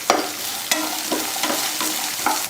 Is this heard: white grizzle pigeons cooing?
no